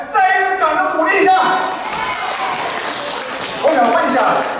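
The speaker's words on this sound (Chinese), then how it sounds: "再一次掌声鼓励一下" An audience at an international dance and modelling contest applauds, broad clapping rising quickly and holding steady for several seconds before a brief swell near the end, with a voice speaking over it at the start.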